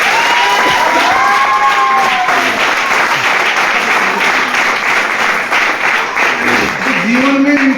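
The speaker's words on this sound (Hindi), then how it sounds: "तो देखो इस सर के लिए तो पहले जबरदस्त ताली।" Loud applause and cheering from an audience at a leadership conference in Bardhaman, West Bengal, with dense clapping throughout, whoops and shouted voices rising above it, and a crowd voice near the end.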